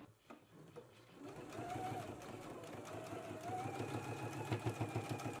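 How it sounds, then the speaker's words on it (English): A sewing machine stitches a 5/8-inch seam allowance on a McCall's M8449 garment, giving a close, steady motor whir with rapid rhythmic needle ticking that runs without pause and grows slightly louder toward the end. "we can go ahead and stitch in a 5/8 of an inch seam allowance"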